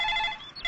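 A telephone ringing in a comedy film scene, a clear electronic trill that sounds once, breaks off briefly and starts again, close and alone with no talk.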